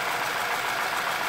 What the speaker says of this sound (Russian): Многочисленные пропуски по цилиндрам, причем по всем цилиндрам.